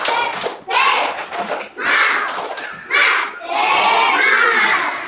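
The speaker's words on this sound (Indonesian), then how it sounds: "Coba, tepuk semangat." A class of fourth-grade schoolchildren performs a rhythmic clapping cheer, bursts of loud group claps alternating with shouted chant lines in separate waves, close and energetic.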